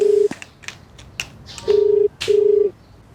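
Telephone ringing on an unanswered call, a loud, close steady tone in repeated bursts separated by short gaps, with faint clicks between.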